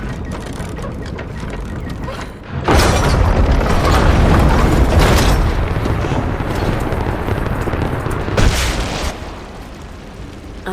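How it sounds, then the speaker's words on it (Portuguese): A trebuchet fires in the video game Rise of the Tomb Raider, a sudden heavy mechanical boom with a wooden creak that swells into a long, loud rumble. A second surge follows near the end. "Eu posso usar isso para mirar o trebuchet."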